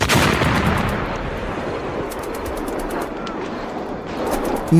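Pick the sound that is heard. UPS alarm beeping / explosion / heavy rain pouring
explosion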